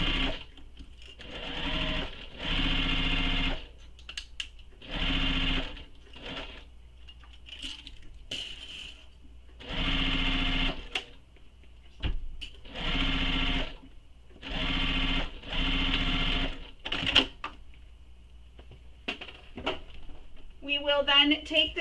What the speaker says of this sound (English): So now we're going to sew this with the seam allowance given in the pattern.